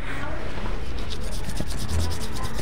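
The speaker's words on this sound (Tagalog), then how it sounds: "kailangan natin lihaan" Steady, rapid rasping strokes of sandpaper rubbing a stainless steel fishing hook, close and continuous, with a rhythmic back-and-forth scratching texture.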